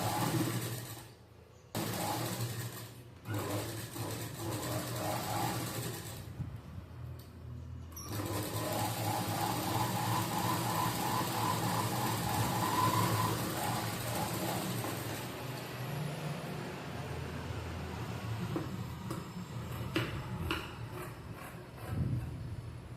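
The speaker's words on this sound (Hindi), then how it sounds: "अब इस साइड में भी हम सिलाई लगा लेते हैं।" Sewing machine stitching the side seam of a katori blouse, a continuous whirring, rattling run of stitches with a couple of brief pauses early on, then a long steady stretch ending in lighter clicks.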